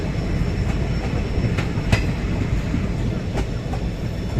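A diesel-hauled train rumbles steadily along the tracks between Siliguri and Hasimara, close and loud, with a few sharp clicks from the wheels crossing rail joints.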